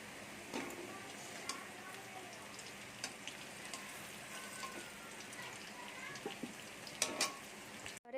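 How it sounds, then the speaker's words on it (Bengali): Taro (arbi) pieces frying in a pan of oil until reddish-brown, a steady soft sizzle with light crackles and a few sharper ticks and clinks near the end. "এবারে কচুগুলো ভাজা হয়ে গেছে লাল লাল করে"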